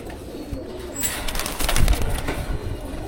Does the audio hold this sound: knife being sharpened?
no